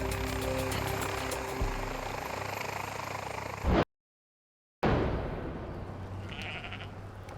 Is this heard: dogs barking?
no